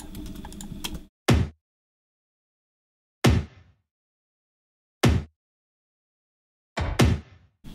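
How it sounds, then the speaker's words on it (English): A tom drum sample plays in a music studio: four isolated, punchy hits spaced a couple of seconds apart, each with a quick decay into silence, after a brief burst of other sound. "we have the tom here, you can listen to it"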